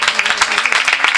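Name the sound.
audience clapping at a kirtan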